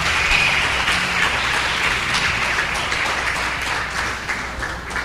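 A church congregation applauds together, a dense, steady wash of clapping that holds fairly even for about five seconds before thinning slightly toward the end.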